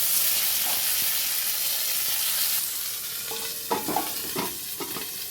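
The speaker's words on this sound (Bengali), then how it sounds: "এবার আমি টুথপিক দিয়ে যেটা বানিয়েছিলাম সেটাও ভেজে নেব।" Rolls of gourd leaf wrapped around rohu fish roe and pinned with toothpicks sizzle steadily in hot oil, a loud hiss that eases midway, then gives way to scraping, clinking stirring sounds.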